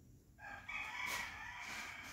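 A rooster named Cluck Norris crows once in a long, strained call that starts abruptly and rises before trailing off, close and fairly loud over faint background noise.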